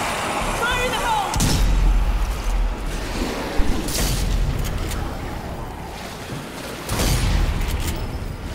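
A grenade goes off in Zombie Army 4, a heavy boom among other game explosions and rumbling effects, with a voice talking over the action.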